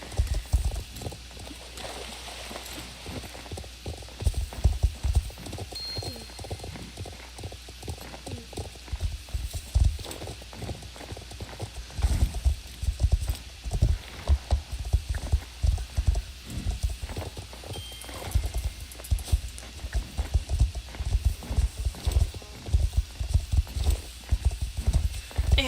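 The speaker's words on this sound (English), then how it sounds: "horse XP, or for other XP" Horse hooves clip-clop steadily in the Star Stable online game, a brisk rhythmic stream of near, crisp footfalls with soft game ambience and occasional speech underneath.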